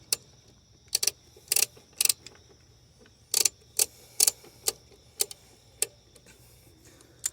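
A ratchet tightening a bolt on a VW Jetta TDI in a parking lot: sharp, metallic clicks in irregular short bursts, close and fairly quiet, with no talking.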